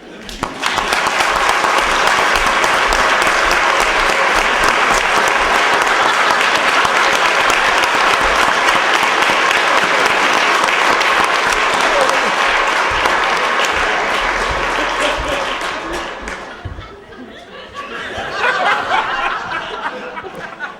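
A large audience applauds steadily at a debate welcoming President Bush and Senator Kerry, sustained dense clapping that fades near the end, followed by a short renewed burst.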